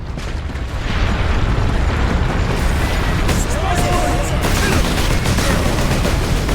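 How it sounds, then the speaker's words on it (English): Explosive crates detonating during a Warhammer 40K Space Marine battle: a loud, continuous wash of rumbling blasts and crackling gunfire, with battle voices mixed into the din. "I detonated literally the damn explosive crates next to you"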